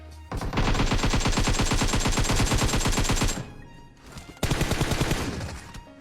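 Automatic gunfire in the video game PUBG Mobile: a long rapid burst of loud, evenly spaced shots, a short pause, then a second sustained burst, with no talking.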